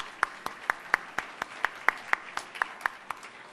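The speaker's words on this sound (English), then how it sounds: "Another round of applause for our guest speaker." Sparse, evenly spaced hand claps ring out one at a time for a keynote speaker at a 2014 awards event, a slow steady rhythm of about fifteen claps with no other sounds.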